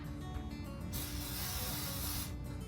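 A single sustained hiss of aerosol cooking spray onto the top of a waffle maker, close and fairly loud, lasting over a second against constant background noise.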